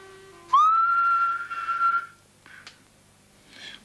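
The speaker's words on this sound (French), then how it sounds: "Je vais siffler juste une fois." A person whistles one long rising note that holds steady, then a shorter second note, followed by a few soft clicks in a quiet room.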